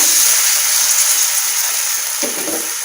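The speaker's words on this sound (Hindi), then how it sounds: "इस आटा को हम फ्राई पैन में ऐड करेंगे" Egg paratha dough fries in ghee in a frying pan, giving a steady, loud, close sizzle that hisses continuously throughout without any voices.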